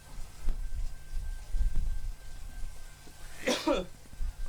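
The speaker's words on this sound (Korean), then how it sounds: "기침도 하고 요새 기침이 많이 나더라고요" One sharp cough near the end, preceded by quiet rumbling background noise and faint movement, from a cyclist riding an indoor trainer.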